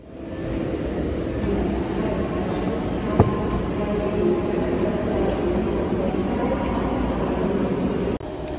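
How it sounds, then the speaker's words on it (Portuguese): An ICE high-speed train at Leipzig main station departing for Frankfurt, a loud steady rumbling roar of rolling wheels and machinery under the station hall, with a brief clank midway and the noise cutting off near the end. "trem rápido aqui da Alemanha. Esse aqui tá saindo pra Frankfurt."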